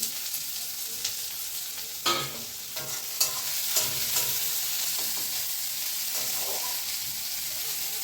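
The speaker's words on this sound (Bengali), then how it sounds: "গরম তেলের মধ্যে ফার্স্ট স্টার্টিং রসুন থেতো করাটা দিয়ে দিলাম।" Crushed garlic, chopped onion and chili sizzle in hot oil in a pan, a steady close frying hiss with a few louder clinks and scrapes of stirring and no talking.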